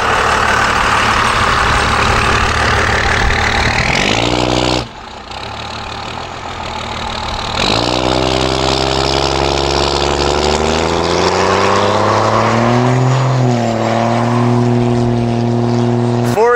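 A turbocharged car engine revs hard through a full-throttle pull, loud and close, climbing through gears with a brief dip at a shift before rising again to a high sustained wail.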